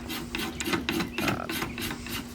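A spokeshave shaves a curved octagonal wooden axe handle in quick, close, repeated scraping strokes, each a short rasping swipe in a soft irregular rhythm.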